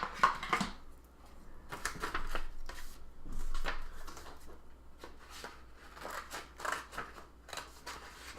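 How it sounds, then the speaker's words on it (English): Scissors cut out the front panel of a wedding card in close, crisp snips that come in irregular bursts, sometimes clustered and sometimes spaced apart, with no voices. "So I'm actually going to cut that out."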